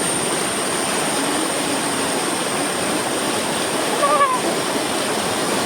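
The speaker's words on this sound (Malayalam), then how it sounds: "മടത്തരുവി വാട്ടർഫാൾസ് ആണ് കാണുന്നത്" A constant, loud roar of rushing water from Madatharuvi Waterfalls in Ranni, Kerala fills the scene, broad and unbroken, with a brief faint whistle-like sound near the end.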